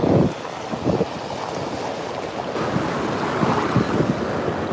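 Ocean waves wash onto a beach in rolling surges of surf, with strong wind buffeting the microphone in a rough, continuous roar.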